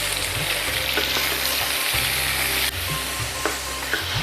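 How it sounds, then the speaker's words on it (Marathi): Chopped vegetables sautéing in a pan for a mixed vegetable diet soup, giving a steady broadband sizzle with scattered light stirring taps throughout. "हे सगळं असं छान मस्त परतून घेऊया"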